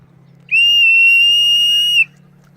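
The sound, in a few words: handmade willow whistle being blown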